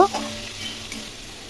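Diced potatoes with chopped garlic and ginger stir-fried in a pan: a sharp clink at the start, then a steady close sizzle with light stirring scrapes.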